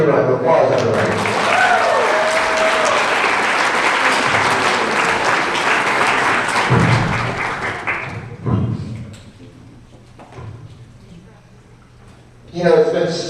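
A crowd at a grad night hypnosis show claps loudly for about eight seconds, then the applause fades out into quieter room noise with a few thuds, and a voice begins speaking at the end.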